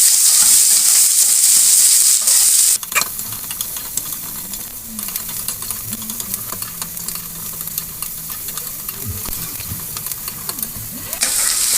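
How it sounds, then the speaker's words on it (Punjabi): Garlic and onion fry in a pan for a pickle, a steady sizzling hiss that stays loud throughout, with soft stirring scrapes and clinks underneath. "ਲਓ ਜੀ ਲਸਣ ਤੇ ਪਿਆਜ਼ ਭੁੱਜ ਗਏ"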